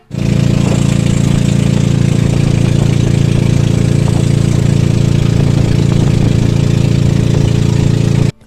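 A motorboat engine drones steadily and loudly the whole time, a constant low rumbling hum up close with no voices, on a trip toward Laoang, Northern Samar.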